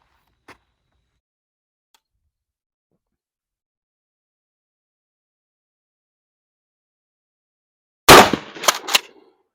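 A Kel-Tec KSG 12 gauge shotgun fires near the end after long near-silence, a sharp loud blast followed by a couple of quicker echoing reports.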